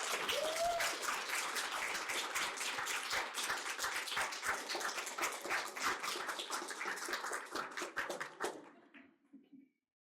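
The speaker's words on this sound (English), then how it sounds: "Applause." Audience applause at a workplace debate on grassroots water management, voting for the affirmative team: steady dense clapping from a room of people for about eight seconds, then fading out abruptly.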